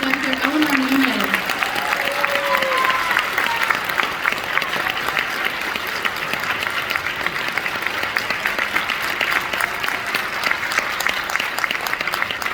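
Audience at a school honor orchestra concert applauds the guest conductor, steady dense clapping held at an even level throughout, with a few voices briefly audible near the start.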